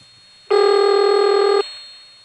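A steady O carrier tone recorded on a 1976 Harrisonburg, Virginia step-by-step telephone line, a harmonic-rich buzz that starts abruptly, holds for about a second, then cuts off, alone on a quiet line.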